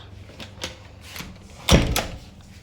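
A hotel room door at a resort closes with a loud, close thud near the end, preceded by a few quieter knocks and handling sounds.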